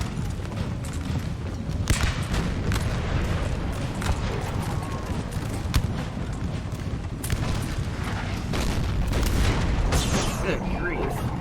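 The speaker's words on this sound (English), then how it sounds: "Oh, the bullets are flying." Musket fire crackles through a Napoleon: Total War battle, with rolling volleys, scattered shots and dull booms forming a continuous distant din while someone talks over it.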